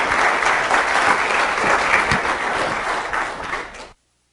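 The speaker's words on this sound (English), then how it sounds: "I love getting applause before I even say anything." Steady, dense applause from a sizable audience, loud and continuous for about four seconds before stopping abruptly.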